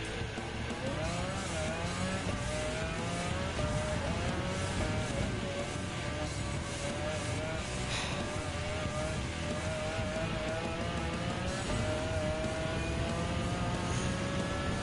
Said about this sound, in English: I see the McLaren F1 GTR race car 1997.